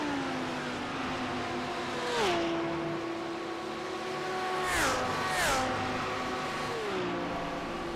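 Race cars lapping Spa in a sim racing game, engines rising in pitch then dropping sharply through gear shifts, with several cars passing close in quick succession, no talking.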